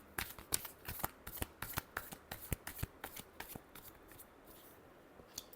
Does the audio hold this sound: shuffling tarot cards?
yes